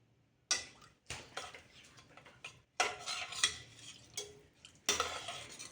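Arisi paruppu sadam, a rice and lentil dish, being stirred in a pot with a metal spoon, giving several bursts of clinking, scraping strokes separated by short pauses, close and fairly quiet with no talking.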